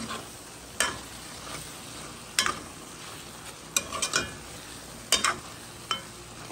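Tomato and ham being stirred together in a pot for rougail, with a spoon scraping the pot about once a second over a faint, low simmer. No voices.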